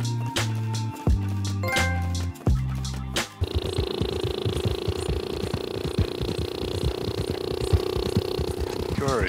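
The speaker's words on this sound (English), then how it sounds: "That's the sound of my horse" A few seconds of musical tones give way to a low, steady purring rumble from a horse in Red Dead Online that continues without a break.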